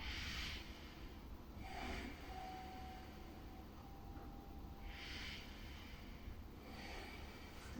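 A person takes a few deep breaths during a hip-stretching session. There are about four soft, faint inhale and exhale swells, spaced a couple of seconds apart, against quiet background noise, with no talking.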